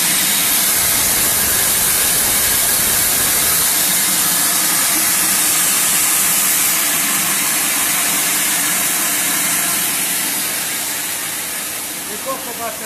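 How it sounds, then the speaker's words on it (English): A cocoa butter press runs in a bean-to-bar chocolate factory, giving off a loud, steady broadband hiss and mechanical rush that continues unbroken for the whole stretch and eases only slightly near the end. "The cocoa butter press is still on."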